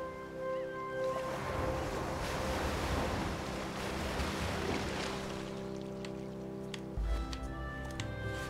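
Ocean waves in the platformer Unravel surge and wash continuously in a broad, steady roar, loud and alone with no talk, swelling through the middle before a low thud near the end.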